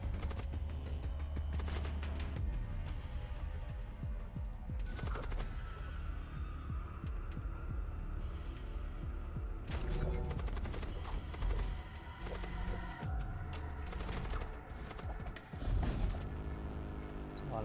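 Enemy ship fire in Void War keeps up a steady sequence of heavy, thudding shots and booms over a constant low hum, with louder impacts coming at irregular intervals.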